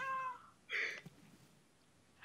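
A cat in a Christmas-themed video game meows in short bursts, one drawn-out meow followed by a brief second call and a sharp final cry after a pause.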